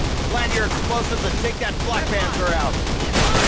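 Rapid rifle gunfire in a Call of Duty game, with dense overlapping bursts of loud shots that continue without a break, while a voice talks over the action.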